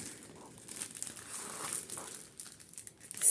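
Crinkling, crumpling plastic wrapping of a bead embroidery kit being opened, close and fairly quiet, with soft irregular rustles and a brief tearing rise near the end.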